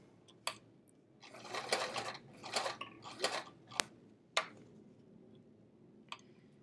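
Fabric being stitched on a sewing machine for a travel art folio pocket, short bursts of mechanical whirring separated by sharp ticks and clicks, close and fairly quiet in a still room.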